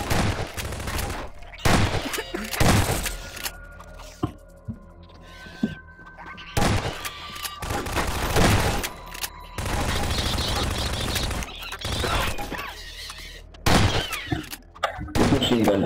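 Machine gun fire in a video game comes as loud, dense bursts of rapid shots that repeat through the clip, with mechanical clanks between volleys and a voice talking at times underneath.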